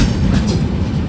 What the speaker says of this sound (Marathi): तर ट्रेन निघली आता बडनेरा स्टेशनवरून